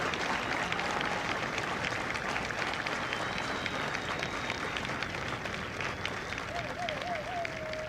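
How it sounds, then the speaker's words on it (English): Audience applause at a Marine recruit graduation at MCRD San Diego, a steady, dense wash of clapping from a large crowd with cheers and a whistle rising through it, sustained throughout. "Ladies and gentlemen, a round of applause for their dedicated service to Corps and country."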